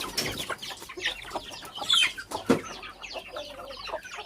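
Chickens cluck and squawk close by in a busy, irregular stream of short calls, with occasional louder cries, no talk over them.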